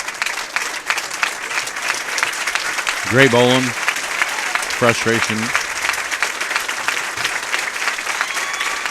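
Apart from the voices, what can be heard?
crowd applauding at a bowling championship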